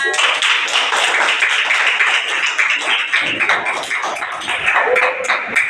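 Classroom of students clapping for a presenting group, a busy patter of many hands close by, sharp and steady across the whole stretch with slight dips in the middle.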